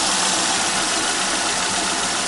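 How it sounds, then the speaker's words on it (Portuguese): A Citroen C3 with a failed head gasket idles steadily after repair, a continuous even engine hum with slight knocking texture, close and alone without voices. "Tá aí o carro funcionando muito bem."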